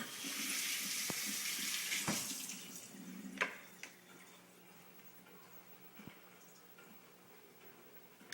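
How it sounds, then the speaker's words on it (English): Water runs from a kitchen tap as a hand is rinsed, a steady close hiss that fades after a few seconds, with a few faint clunks and drips and no talking. "I'll rinse my hand real quick here."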